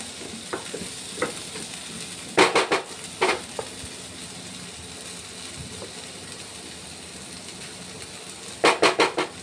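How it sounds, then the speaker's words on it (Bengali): Dheki saag (vegetarian) frying in a pan, slightly stuck at the bottom, gives a soft steady sizzle broken by a few loud scraping bursts of stirring, clustered in two bunches, near and without talk. "ঢাকনা খুলে আবার একটু নেড়ে চেড়ে নেব।"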